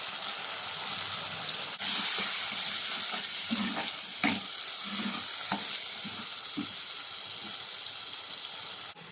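Ground masala paste for a village-style fish curry sautés in oil with a continuous hiss, and soft, scattered scrapes of stirring sound under it throughout, without speech.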